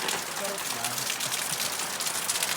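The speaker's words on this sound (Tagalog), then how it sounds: "Tignan nyo naman ang ulan." Steady rain pours down outdoors at night, a dense, even hiss of drops on surfaces throughout, with faint voices blending into the wash.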